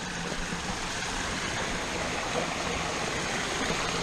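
Steady broadband rush of waterfalls pouring through a narrow slot canyon in Los Padres National Forest, a continuous even roar heard close with no voices over it.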